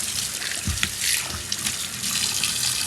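Running tap water splashes steadily while food is washed at a sink before cooking sardines (omena), a continuous close hiss of water with small shifting splashes.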